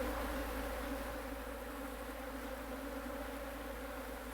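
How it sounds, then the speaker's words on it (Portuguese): Honeybees buzz in a low, continuous drone near a hive producing light-coloured wildflower honey, steady and fairly quiet throughout with no voices. "Essas abelhas elas têm uma autonomia de voo de 3 km"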